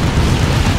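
Grenade blast in Dawn of War 2 against an Ork Mekboy: a loud, low, rumbling boom that fills the whole moment, steady and dense with no clear onset.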